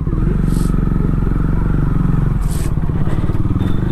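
A motorcycle on its first ride of 2022 after a long break, heard close and loud as a steady engine drone throughout, with brief scraping and clattering bursts over it.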